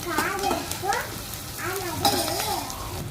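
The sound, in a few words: curry leaves sizzling in hot oil tempering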